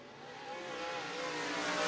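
Race cars running on track during qualifying at All-Tech Raceway in Lake City, Florida, a continuous engine drone heard at a distance, building slightly in loudness over two seconds.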